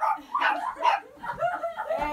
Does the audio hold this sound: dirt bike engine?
no